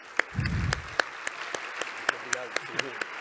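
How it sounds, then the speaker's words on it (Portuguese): An audience at a university academic-week opening lecture claps to welcome a professor to the stage, with sparse, fairly regular claps ringing out in a large room while someone speaks. "uma salva de palmas"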